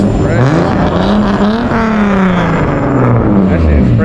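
A Ford Mustang 5.0 V8 idles and burbles close by with a loud, continuous low rumble, with a voice talking over the engine throughout.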